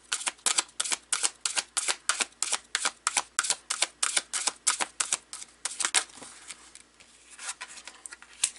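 Tarot cards pulled from a deck and laid out on a surface make a fast, steady run of crisp, close snaps and slaps, then slow into a few scattered taps near the end. No one speaks.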